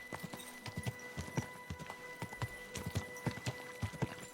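Horse hooves clip-clop at a steady walking rhythm in the video game Kingdom Come Deliverance II, with crisp, evenly spaced hoof strikes close by over a low background hum.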